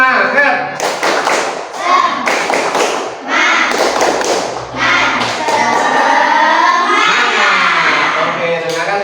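A classroom of children claps together in a patterned spirit-clap routine, bursts of sharp rhythmic claps mixed with chanting voices and some thumps, close and lively.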